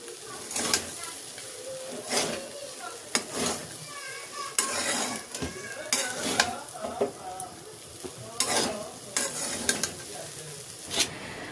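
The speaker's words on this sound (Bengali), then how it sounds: "আবারও খুব ভালো করে নাড়াচাড়া করে মিশিয়ে নেব।" A spoon stirs and scrapes through chira pulao, flattened rice with fried peanuts, in a pan, giving repeated clinking and scraping strokes over a faint sizzle, close and fairly loud.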